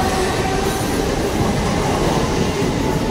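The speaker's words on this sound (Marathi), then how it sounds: "बघा ट्रेन." Train passing on a railway, a loud continuous rumble and rattle of wheels on track filling the whole stretch, close by and steady with no talk.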